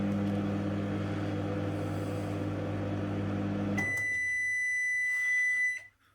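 A microwave oven hums steadily at close range, then cuts off and gives a short series of high electronic beeps before the end.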